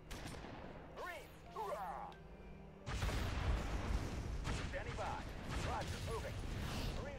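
Rapid gunfire and heavy artillery booms from a base attack in the strategy game Halo Wars, continuous and loud with a sudden surge midway, under game voices and radio chatter.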